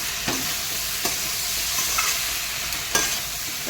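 Ground spices sizzle in hot oil while being sautéed for a katla fish curry, a steady bright frying hiss broken by a few sharp stirring scrapes, close and even.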